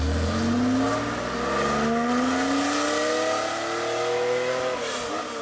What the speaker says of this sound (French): t'avais le son du flat 6.